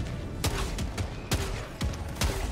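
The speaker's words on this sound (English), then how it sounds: "Was that a mortar on me?" Mortar strikes land in the shooter game Helldivers 2 as a run of sharp, loud blasts, several close together, over dense constant battle noise.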